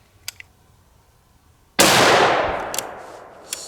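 A 6.5 Creedmoor rifle fires one 142-grain Sierra MatchKing round: a single sharp, loud crack that rings off in a long decaying tail, with a few faint clicks before it and a small tap at the end.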